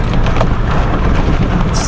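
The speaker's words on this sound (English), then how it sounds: "there's thunderstorms rolling around me here" Thunderstorm in the desert near Stonewall Mountain, Nevada, with a dense, steady roar of rain and low rumbling close by, filling the whole stretch without a break.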